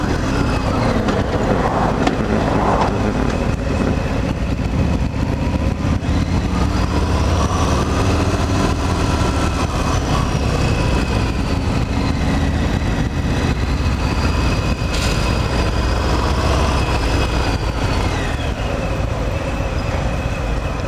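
A 2018 Harley-Davidson Fat Bob motorcycle engine drones steadily while riding, a loud continuous rumble with wind noise throughout and no talking.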